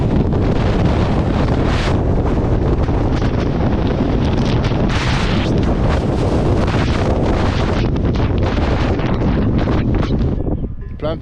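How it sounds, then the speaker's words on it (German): Strong wind roars and buffets a microphone without pause on a trail ride in Spain or Portugal, loud and close, with rumbling gusts throughout. "Da ist ein ganz schön Wind schon da hinten und oben ist der Wind."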